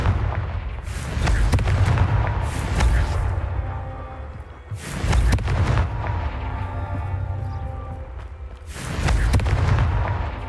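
Confringo explosive spells from Hogwarts Legacy blast out as a run of loud, booming detonations, each rolling into a rumbling tail before the next heavy burst hits.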